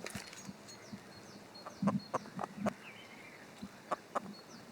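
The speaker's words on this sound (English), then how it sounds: "The chicken sounds has been really loud." Chickens in CS:GO on the Inferno map give short, scattered clucks, a few close together and then pauses. They sound faint to moderate over a quiet, steady background.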